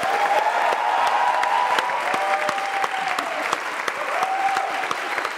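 Steady, dense applause from a studio audience of drama students, young actors and guests fills the room, loud and continuous throughout with no voices over it.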